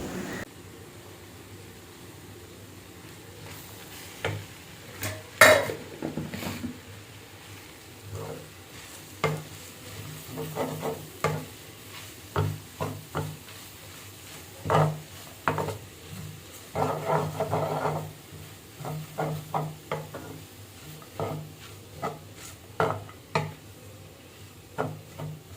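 Leftover chapathi pieces stir-fried with beaten egg in a pan for chapathi kothu, a steady sizzle broken by repeated scraping and clattering strokes of a spatula against the pan, growing busier and louder as the stirring goes on.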